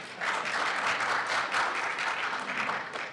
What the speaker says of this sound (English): you can applaud if you want to